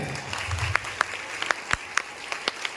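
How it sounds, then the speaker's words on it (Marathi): A school audience at a high school education-week assembly claps in sparse, fairly regular separate slaps rather than a full ovation, over a low murmur of room noise. "मग टाळ्या तेवढ्या प्रमाणात पाहिजेत का नाही?"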